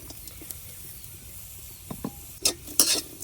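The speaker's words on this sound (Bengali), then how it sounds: "এখন পেঁয়াজটাও এভাবে রসুনের সাথে একটু বাজিয়ে নিলাম, শুকনো খোলায় আর কি" Onion and garlic dry-roasting in a dry pan with no oil, stirred; soft scraping and faint crackle at first, then a few louder stirring scrapes and sizzly bursts near the end.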